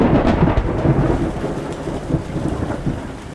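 Heavy rain pours steadily while deep thunder rolls and rumbles, loud and close, with no voices.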